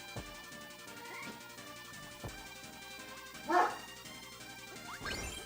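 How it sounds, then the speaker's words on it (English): Real dog barking and whimpering in a room while peaceful Kirby 64 game music plays, with a couple of short yips and one louder bark standing out over the music. "And there's my dog."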